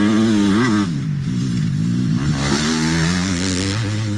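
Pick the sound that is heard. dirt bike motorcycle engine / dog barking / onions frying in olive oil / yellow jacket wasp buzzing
dirt bike motorcycle engine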